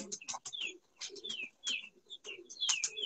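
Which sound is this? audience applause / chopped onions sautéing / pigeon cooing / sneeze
pigeon cooing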